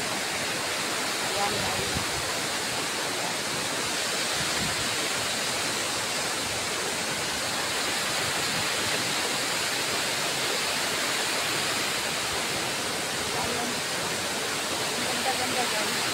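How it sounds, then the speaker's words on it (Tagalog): Pulang Bato Falls in Valencia roars as a steady, dense waterfall wash that stays constant throughout, with a voice talking briefly over the rushing water. "Pulang Bato Falls ito guys."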